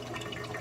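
A Clear Water Scrubbers CW-50 algae scrubber with a problem, its feed line squeezed to cut the flow, gives a brief, quiet wash of running and gurgling water, close and alone.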